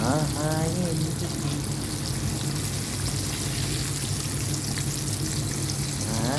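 Fish frying in hot oil, a steady dense crackle and hiss that holds loud and even throughout, with a brief tonal sweep at the start and end.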